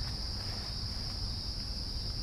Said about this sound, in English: That is just a ton of bees